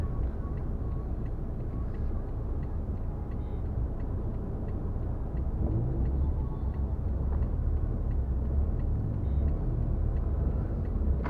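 A low, steady rumble of heavy traffic idles and crawls through the congested Si Ayutthaya intersection in Bangkok near Priest Hospital, a dense continuous drone of engines with no clear single vehicle standing out.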